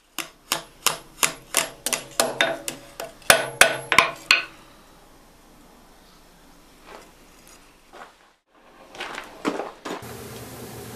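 A hammer strikes hot steel on an anvil while forging a long taper, about a dozen sharp, evenly spaced ringing blows in quick succession, then quieter shop noise with a few light knocks.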